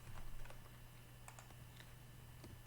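Code typed on a computer keyboard, a quick irregular run of soft key clicks over a low steady hum, close but faint, with no voice.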